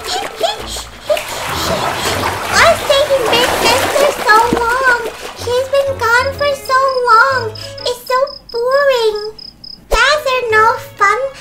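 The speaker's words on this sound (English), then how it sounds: "Maybe I can just splash just a little bit." A child splashes water in a bath, with steady sloshing and splatter for the first few seconds, then a voice talks and babbles over lighter splashes.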